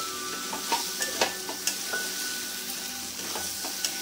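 Fried potatoes and soybean chunks sauté with spices in a pan: a constant sizzle broken by regular clinks and scrapes of a spatula stirring, close and moderately loud, with no talking.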